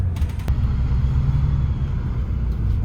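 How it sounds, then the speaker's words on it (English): Deep, steady engine rumble of a bus pulling into a bus station, close and loud, with a few brief sharp clicks early on and a faint clank near the end, no talk. "And here comes another bus coming here."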